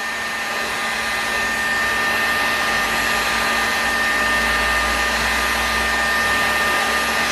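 A heat gun blows a steady, loud, unbroken airy roar with a faint whine while it heats an aluminum housing for a bearing installation on an Enya 40X engine.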